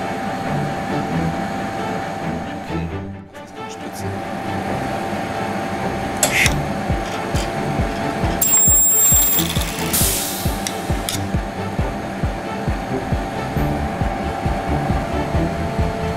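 An ElmaTech Midispot AV fully automatic spot welding machine runs steadily and loudly in a workshop, with a dense mechanical hum, repeated clanks and short sharp bursts throughout, and no one talking.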